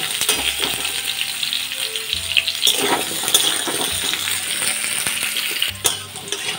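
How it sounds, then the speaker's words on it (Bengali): Potatoes go into hot oil in a pan and sizzle steadily, with scattered clinks and scrapes over a few seconds. The sound is close and fairly loud, and nobody talks. "এইবার দিয়ে দিচ্ছি আলুগুলো। আলুগুলোকে আগে লাল লাল করে ভেজে নেব।"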